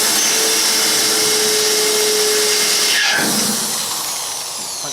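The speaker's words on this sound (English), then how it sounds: "we're gonna drill a couple small guys first here." A power drill whirs steadily at close range, drilling small holes to bolt ramps onto a small trailer, its pitch dropping briefly partway through before the motor winds down.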